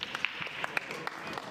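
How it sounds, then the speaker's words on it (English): Scattered applause from a pool audience at a US Open Pool Championship match, a few sparse claps rising around a commentator's voice, moderately faint and brief. "There's the round of applause anyway."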